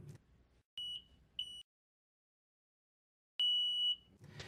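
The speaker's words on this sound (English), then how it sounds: "When the material reacts to the point where the glass rod can no longer rotate, the upper electrodes touch and sounds an alarm." Gel timer alarm on a polyurethane test rig, sounding as the reacting material stiffens: two short electronic beeps followed by one longer sustained tone, clear and isolated against near silence with faint handling noise.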